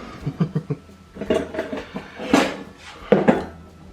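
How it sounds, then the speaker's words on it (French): Knife chopping courgettes on a board in a home kitchen, a series of short knocks in uneven clusters with a few louder cuts, close and clear with no talk. "Comment je coupe des courgettes"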